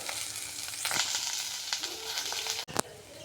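Onion frying with a little salt in a pan, with a loud, continuous sizzle and a brief stirring scrape near the end.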